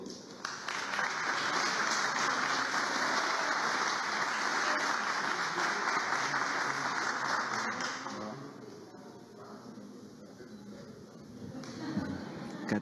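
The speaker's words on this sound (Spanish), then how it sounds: "El aplauso para Eco Guerreros del Perú y del mundo." Applause at an award ceremony for Eco Guerreros del Perú, a dense, sustained clapping from a crowd that fades down toward the end.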